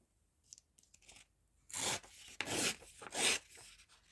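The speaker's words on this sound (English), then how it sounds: "so I just need to tear it down one side and then glue it on" Paper is torn by hand for a journal cover, with a few soft rustles and then three loud, close rips in quick succession. No one speaks.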